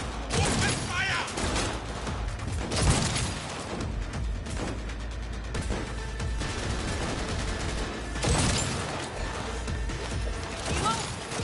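Rapid bursts of automatic gunfire and heavy shots rattle through a firefight in the Cyberpunk video game, loud and dense with brief pauses, while voices shout over the battle.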